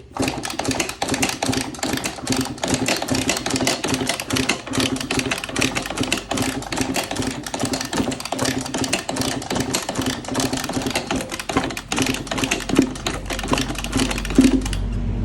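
A 2014 Kawasaki KX85 two-stroke dirt bike engine is kicked over repeatedly during a compression test, giving a steady fast mechanical chugging that runs throughout, close and fairly loud, with no voices.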